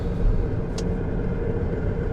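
A Chevrolet Blazer with a recently repaired thermostat driving on the road on a sunny day, a steady low engine and road rumble heard from inside the cabin, with no talk.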